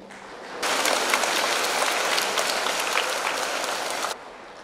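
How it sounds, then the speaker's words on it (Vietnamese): An audience at a Buddhist dharma talk breaks into dense, even applause that starts abruptly, holds steady for about three and a half seconds and then cuts off sharply. "vỗ tay đi."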